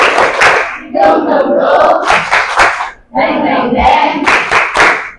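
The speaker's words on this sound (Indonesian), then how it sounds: "Tepuk semangat yang kedua." A classroom of children does a rhythmic spirit clap, with bursts of patterned clapping and chanting voices. Two loud group phrases are split by a brief pause.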